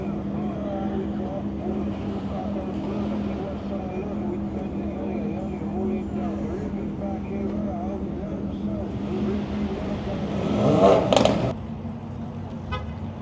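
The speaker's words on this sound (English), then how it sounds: "They got the Urus going." A wide-body Lamborghini Urus revving at a late-night rooftop car meet in Midtown Atlanta, its engine droning and rising under crowd chatter, with one loud swell near the end that cuts off sharply.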